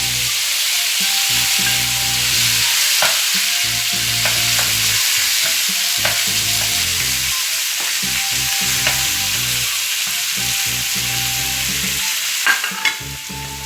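Diced meat for sac kavurma frying in a pan, a steady loud sizzle throughout with occasional stirring scrapes and pops, no voices.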